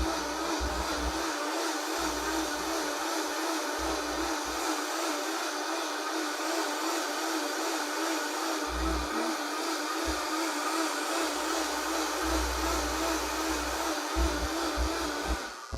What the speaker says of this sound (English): my mic should mute or at least dampen the blender